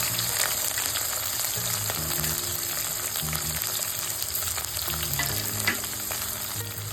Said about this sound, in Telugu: వీటన్నింటినీ కొంచెం ఆయిల్లో ఫ్రై చేసుకోవాలండి